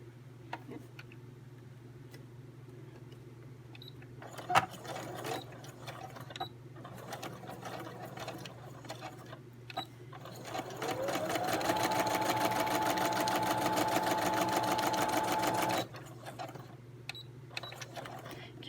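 A sewing machine straight-stitches an envelope craft, with scattered soft clicks and short bursts before a sustained, louder run of steady stitching that stops abruptly, followed by quiet.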